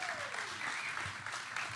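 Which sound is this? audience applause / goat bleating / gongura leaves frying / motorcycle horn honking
audience applause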